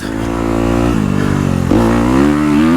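A dirt bike engine on a motocross track revs hard and continuously, with its pitch dropping and climbing again as it shifts between second and third gear, loud and close.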